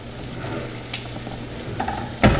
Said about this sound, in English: Melting butter is a dangerous thing, guys.